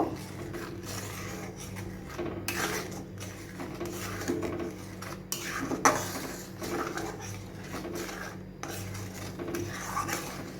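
A utensil scrapes and rubs steadily around a pot of biuli dal mixed with sugar and turmeric, in a close, repetitive rasp with small clinks, and no one speaking.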